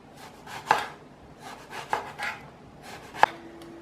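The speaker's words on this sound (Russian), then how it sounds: "я буду резать баклажаны кольцами" A kitchen knife slices eggplant into half-centimetre rings on a board for a Korean-style salad, three distinct crisp cuts spaced about a second apart, each a soft rasping stroke ending in a sharp tap, close and quiet.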